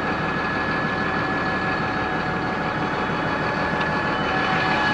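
A tractor engine idles steadily at close range, a continuous low rumbling drone with a faint mechanical whine that holds even and unbroken throughout, with no voices over it.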